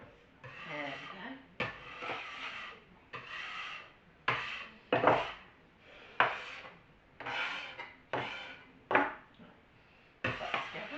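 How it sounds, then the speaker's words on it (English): A small scraper drags repeatedly across a floury work surface in short, close scraping strokes at an uneven pace, roughly a dozen rasping passes separated by brief pauses. "Let me use my little scraper to get the flour all together."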